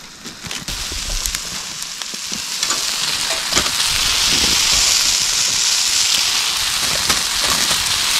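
Shiitake mushrooms sizzle on an iron griddle at an outdoor camp, a continuous crackling hiss that builds steadily, with occasional clinks and brief touches of background noise.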